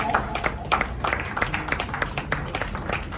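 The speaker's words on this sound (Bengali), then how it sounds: "একটু সবাইকে রিকোয়েস্ট করে ছোট হাততালি হয়ে যাক।" Short burst of clapping from an audience at the Bengali Cine Award 2024 and Raikishori calendar launch aboard the Polo Floatel in Kolkata, dense and steady for a few seconds at moderate distance.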